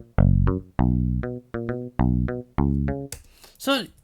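A muted, picked synth bass from the Logic Pro Sculpture plugin plays a short line of about seven plucked notes, each with a clean attack and quick decay, followed by a brief swooping tonal effect at the end.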